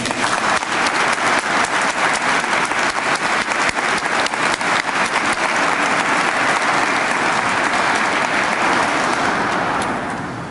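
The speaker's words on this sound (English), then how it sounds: "let's give them one more round of applause" Award ceremony audience gives recipients a sustained, loud round of applause, dense clapping filling the room steadily before easing off near the end.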